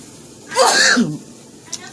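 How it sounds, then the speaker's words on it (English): A single close, sharp sneeze with a quick breathy burst, followed by a faint short sound and quiet room tone. "I sneezed in my shirt"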